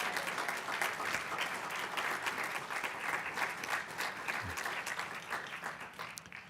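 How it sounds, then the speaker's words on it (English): Sustained applause from an audience at a business immigration coalition event, an even wash of many hands clapping that holds steady before thinning slightly at the end. "Can we give them another round of applause?"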